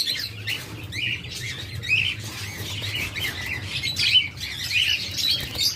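Caged pet birds, lovebirds or cockatiels kept for sale, chirp and squawk continuously at close range, their shrill calls overlapping in a busy chatter with no pause.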